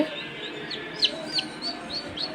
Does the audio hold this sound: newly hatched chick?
yes